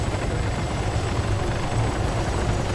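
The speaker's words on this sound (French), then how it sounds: "L'hélico est pas décollé." A helicopter sits with its rotor running, its heavy, continuous thumping drone steady and close throughout with no talk.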